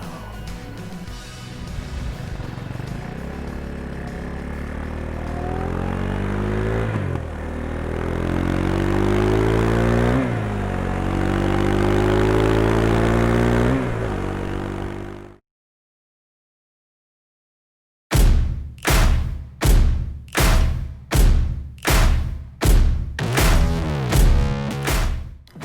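Motorcycles ride up Pikes Peak, Colorado, their engines droning loudly and rising and falling through gear changes. After a brief silence, a series of sharp, rhythmic pulses follows.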